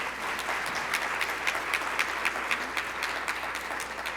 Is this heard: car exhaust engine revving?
no